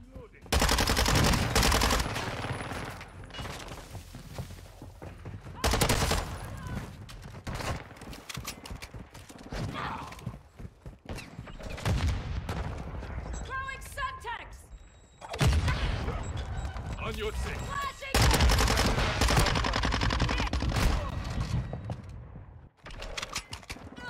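Rapid P90 and Minibak gunfire in the shooter Modern Warfare 2, loud bursts of automatic fire cutting in and out with brief gaps, explosions and in-game voices mixed in.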